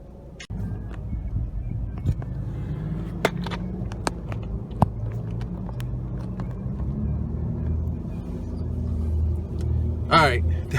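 Steady low rumble of a car driving along a road on a food delivery run, continuous engine and road noise with a few sharp clicks and rattles inside the cabin.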